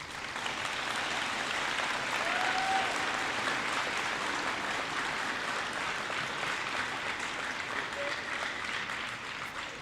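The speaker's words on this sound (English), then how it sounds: "Again, let's give them a round of applause." Sustained applause fills a high school Veterans Day assembly, a dense, even wash of clapping from a large audience that holds steady for the whole stretch and tapers slightly at the end.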